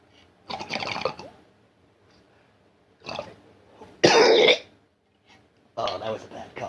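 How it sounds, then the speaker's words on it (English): A person coughs in several harsh bursts separated by pauses, the third fit loudest and roughest, close to the listener with quiet stretches between. "Oh, that was a bad cough"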